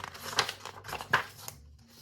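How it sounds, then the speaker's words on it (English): A book page is turned with soft paper rustles and a couple of crisp flicks, quiet and close, in a calm room with no one speaking. "Get the page turned."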